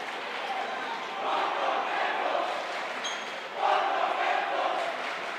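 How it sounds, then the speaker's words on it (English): A loud home crowd at a high school basketball county championship, West York against Eastern York, roars continuously in a large gym, with the noise surging twice before settling. "We got a loud West Shore crowd"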